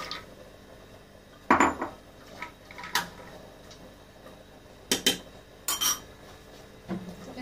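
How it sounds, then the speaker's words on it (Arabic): Lid of a pressure cooker holding chicken and chickpeas being set in place and closed, a few close metallic clanks and clinks spread irregularly over a quiet kitchen background. "وغادي نسد عليه الكوكوط"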